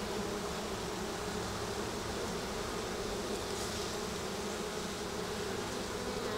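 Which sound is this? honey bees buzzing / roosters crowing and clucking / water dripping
honey bees buzzing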